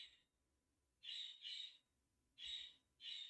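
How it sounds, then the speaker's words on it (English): A bird squawks in four harsh, shrill calls, two close together and then two more after a pause, faint and somewhat distant against a quiet room. "Tell that bird to shush."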